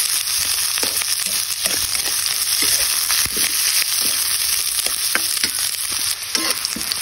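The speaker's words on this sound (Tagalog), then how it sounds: "Palabasin muna natin mantika nito. Sabay na natin ng bawang at luya." Onion and ginger sizzle steadily in hot oil, a dense, continuous frying hiss close up with occasional stirring clicks and spatters, no voices.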